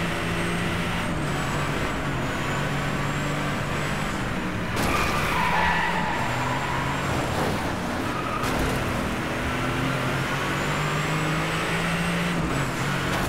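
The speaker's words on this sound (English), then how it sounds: "Now I did hit a car" A car collision in the racing video game Driveclub, a sustained roar of engines and tyre skidding with sharp impact bursts near five and eight and a half seconds, loud and close.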